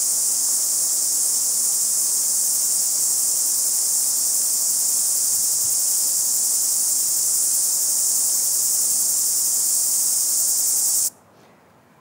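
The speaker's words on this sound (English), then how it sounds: "inspired by the chorus cicada, its appearance, sonic expression, and behavior" A dense, steady chorus of chorus cicadas forms a continuous high buzzing wall of sound that cuts off abruptly near the end.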